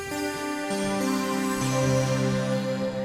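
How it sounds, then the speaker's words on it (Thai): A bright, sustained electronic chime from a computer restart in PC Building Simulator, with layered tones that shift pitch a few times, playing steadily for about three seconds with no voices. "อันนี้คือเสียงรีสตาร์ทใช่ไหมเนี่ยปัง"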